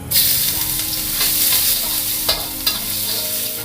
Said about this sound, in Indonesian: Panaskan sedikit minyak lagi ya guys, kemudian tumis bawang putih dan jahe.